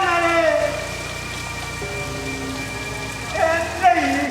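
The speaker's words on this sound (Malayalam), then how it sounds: "എന്നാ മഴയാ, എന്നാ മഴയാ," Heavy rain pours steadily in Ernakulam, a dense continuous hiss filling the clip, with sustained tonal lines running above it and a couple of louder swells near the end.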